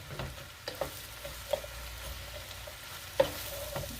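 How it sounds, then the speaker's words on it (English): Sliced mushrooms and onion frying in a pan as they are stirred, a steady low sizzle broken by a few sharp scraping clicks of the utensil, close and fairly quiet with no talking. "Then we've got our onion. We're going to get this all stirred up."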